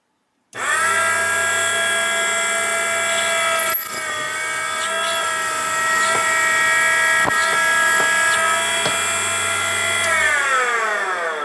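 A Henderson precision case trimmer runs loud and steady as it trims a brass rifle case, its motor whine holding for about ten seconds before the pitch sags and winds down at the end.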